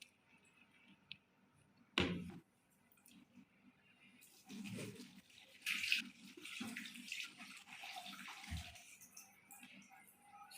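Water splashes and runs while a face is rinsed of turmeric foaming face wash, with a sharp splash early on and steadier running and splashing later, close by and fairly quiet.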